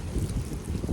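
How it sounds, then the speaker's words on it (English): A gust of wind outdoors buffets the microphone with loud low rumbling bursts that swell and ease over a brief moment, with no talking. "wow, big old gust of wind."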